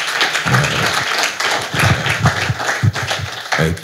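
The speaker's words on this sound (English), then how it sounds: "you have to give them a round of applause" A panel-session audience at a voiceover business event gives a round of applause: dense, steady clapping fills the room throughout, with a few louder thuds near the mic standing out from the crowd.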